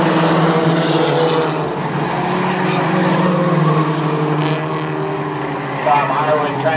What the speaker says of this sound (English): Matt Merrill trying to change that in the 36 truck as they head down the back chute.